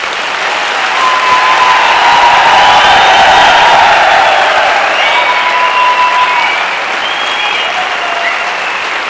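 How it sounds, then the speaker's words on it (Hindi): Loud, sustained applause from a large crowd, with scattered whistles and cheers rising over the clapping. "तो एक जुनूनी वाली तालियां बजा के दिखाइए जोरदार"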